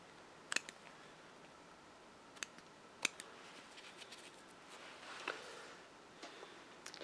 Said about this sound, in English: just cut the corners off to give the appearance of an ear